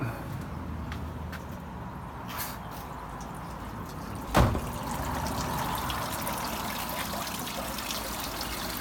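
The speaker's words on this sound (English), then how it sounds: "Just start the water flow again" Pond water trickles steadily and softly in the background, with one brief knock partway through.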